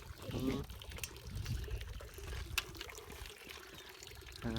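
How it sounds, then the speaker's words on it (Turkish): Water pours and trickles into a cup outdoors at a racing field, a soft continuous stream under nearby chatter and background noise. "Dur bir tane daha doldurayım içer misin?"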